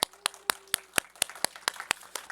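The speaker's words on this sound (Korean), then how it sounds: "우리 박수로 한번 환영하겠습니다" Evenly spaced, crisp claps from a church gathering of education leaders, welcoming guests at a lecture, forming a steady unison rhythm at moderate volume with no talk over it.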